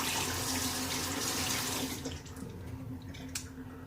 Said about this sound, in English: so I gotta wash it out